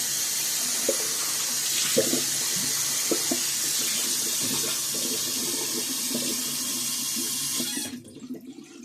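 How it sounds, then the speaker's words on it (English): Tap water runs steadily into a sink while a shaving bowl and brush are rinsed under it, with light clinks and splashes close by before the flow cuts off near the end. "let's go ahead and rinse out the bowl and brush while we're waiting for the witch hazel and alum to do their work"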